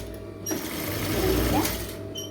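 A sewing machine runs in one steady continuous burst, close and loud, stitching a star neck onto a canvas piece, with a quiet start and a brief tail after the motor stops.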